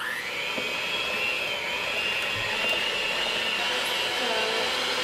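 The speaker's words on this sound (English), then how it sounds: "I have my electric mixer to blend it all together" A steady, continuous high-pitched whir of an electric hand mixer blending pumpkin roll batter, loud and unbroken from start to finish with no talking.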